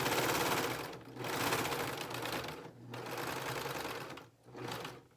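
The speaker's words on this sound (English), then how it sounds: "then I finish sewing and I go past the point where I started" A sewing machine runs in bursts of rapid stitching as a neckband is sewn on a garment, with short pauses between runs, close and loud.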